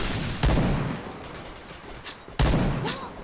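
Two sharp video-game gunshots about two seconds apart, loud and close, each with a short ringing tail over quiet background noise.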